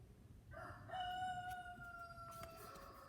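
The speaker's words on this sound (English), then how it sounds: "And now the roosters are going to start singing." A rooster crows once, a fairly faint, drawn-out call at mid distance that rises and then holds steady over a soft background hum, with no voices.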